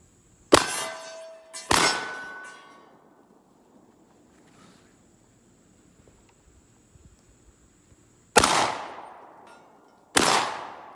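A Rock Island Armory VR80 12 gauge semi-auto shotgun fires four sharp outdoor blasts in two pairs. Each shot is followed by a ringing clang from a steel target, with quiet gaps between the pairs.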